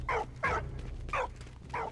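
A dog barks four times in a steady, evenly spaced rhythm, faint and somewhat distant over a low background rumble.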